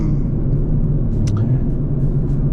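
Tuned BMW M340i with a B58 engine, upgraded turbo, exhaust, downpipe, high pressure fuel pump, injectors and charge pipe, idling close by with a loud, steady low rumble and a brief sharp tick midway.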